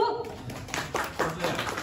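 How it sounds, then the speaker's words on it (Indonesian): An audience at a business gathering gives a brief round of applause, several bursts of clapping that rise and fall over about two seconds, with voices mixed in. "Tepuk tangan dong Bu Ibu."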